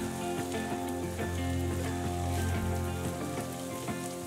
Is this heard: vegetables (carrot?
yes